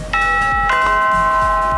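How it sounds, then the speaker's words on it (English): Doorbell in the Minecraft video game: a loud, bright electronic chime with two quick struck tones that ring on and sustain steadily to the end, heard alone without voices. "Oh, that's a nice doorbell."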